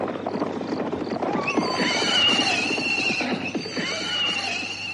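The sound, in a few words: horse-drawn carriage approaching, horse neighing and hooves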